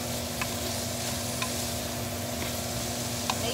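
Vegetables and dried basil flakes are stirred together in a hot pan, a steady low sizzle with a few faint spoon scrapes at regular intervals, close and continuous under a kitchen hum.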